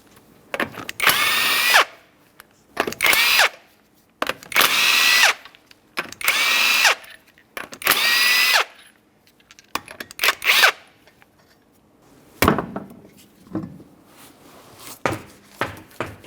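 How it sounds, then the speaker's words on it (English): A power tool, likely an impact wrench, spins 19mm wheel lug nuts off a 2008-2012 Jeep Liberty in about eight loud, close bursts of whirring and rattling, separated by brief pauses. "we're going to continue on removing the wheel, starting with the lug nuts"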